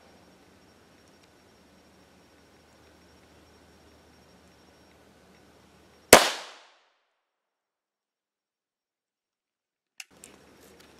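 A single sharp report from an SB-193 subsonic 5.7x28 round fired from a 5.7 pistol at a ballistic helmet, loud and abrupt against near silence, followed by a few faint knocks.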